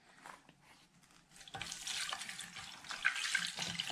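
Salted bacalao being rinsed under a running kitchen tap, a steady stream of water splashing into the sink that starts softly and grows louder and fuller partway through, with no one talking.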